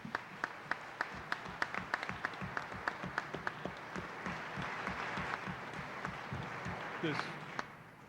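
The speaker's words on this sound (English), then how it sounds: "So I'd like to applaud them for doing that." A meeting audience claps, starting as scattered, distinct claps in a loose rhythm, then thickening into fuller applause before tapering off. The sound is fairly faint and distant.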